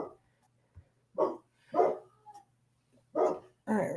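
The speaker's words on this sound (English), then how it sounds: "Of course they start barking right now." Several dogs barking indoors-adjacent in short bursts, five or so loud barks spaced irregularly over a few seconds against a faint steady hum, with no talking.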